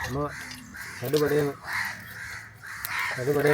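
Crows caw in a series of harsh, repeated calls, fairly close, overlapping with a person talking throughout.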